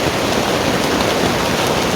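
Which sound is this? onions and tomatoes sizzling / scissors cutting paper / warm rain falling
warm rain falling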